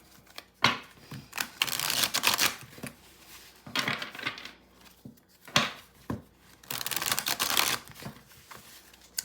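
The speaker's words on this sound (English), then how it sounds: "Gonna give this deck here a big shuffle." A tarot card deck being shuffled in several bursts of riffling, crisp papery flutters separated by short pauses, close up with no talking.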